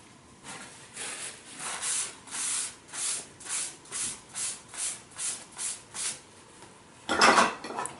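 Regular rhythmic scrubbing or rubbing strokes, about a dozen evenly spaced, close by at a kitchen workstation during cleanup, ending in a brief louder clatter of dishes or pans.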